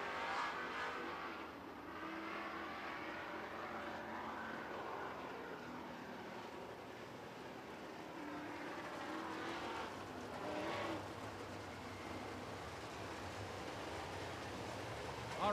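Late model race cars roar around a track during a feature race, engines swelling and fading as they pass at a distance, with a steady background drone between passes.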